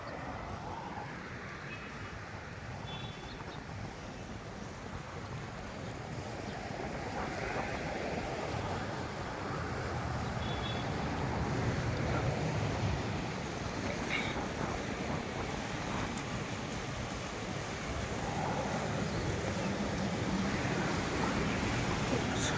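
A garden waterfall with fish in its pool gives off a steady, broad rushing of falling water, moderately loud and continuous, swelling slightly partway through without any voices.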